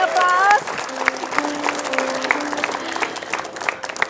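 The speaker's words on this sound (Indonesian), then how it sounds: "Boleh kasih aplaus?" A television studio audience bursts into loud, dense applause at the start, which fades to scattered clapping under someone speaking.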